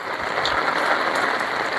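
Heavy rain in Haveri district pours down in a dense, continuous hiss, loud and close, steady throughout with no talking over it.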